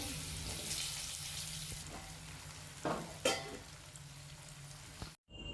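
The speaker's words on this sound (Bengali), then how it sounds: "এবার ওই তেলের মধ্যেই দিয়ে দেবে টুকরো করে রাখা আলুগুলোকে।" Potato pieces sizzle quietly in hot oil for Bengali shukto, a soft steady fry broken by a couple of short stirring clinks before the sound cuts out abruptly near the end.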